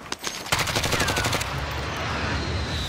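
Automatic gunfire in a video game rattles out in a fast, loud burst lasting about a second, trailed by fading echo and ambient noise, with no talking.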